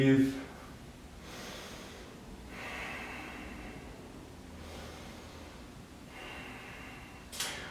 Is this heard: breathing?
yes